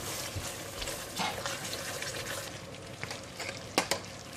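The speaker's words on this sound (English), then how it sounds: "we have to continue to stir for a bit more" Sambal for nasi lemak being stirred in a frying pan, a soft steady sizzle with scraping stir strokes and a couple of sharper clinks near the end, close by with no talking.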